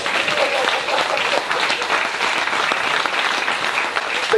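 A church congregation in Taravao, French Polynesia, applauds in a dense, steady burst of clapping from many hands that fills the room without pause.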